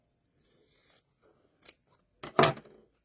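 Fabric being cut with scissors for a beginner sewing project: several short snips, with a soft rasp early on and a louder, closer double cut near the end, no talking.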